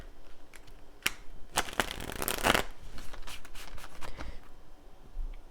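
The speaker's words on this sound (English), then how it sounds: "let's pull one final card from this deck here" Close, crisp riffling and flapping of a tarot deck being shuffled before a card is pulled, in bursts of papery clicks with a louder flurry in the middle and no talking.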